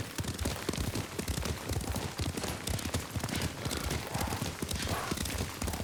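Horse hooves clip-clop in a steady, dense rhythm while riding at pace in Ghost of Tsushima, loud and close, with no talk over the hoofbeats.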